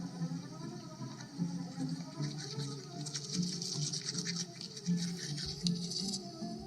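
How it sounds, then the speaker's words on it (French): Teeth being brushed with a toothbrush, a continuous close scrubbing with rapid back-and-forth strokes over a low hum of background sound. "Je me brosse les dents comme d'habitude"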